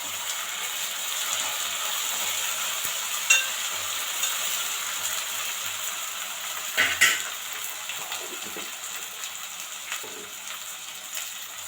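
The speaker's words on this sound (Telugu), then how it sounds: "ఇది కూడా కొంచెంసేపు వేగాలి." Carrots with ginger garlic paste frying in a pan, a steady close sizzle with occasional scrapes and clinks of a spoon stirring, no talking.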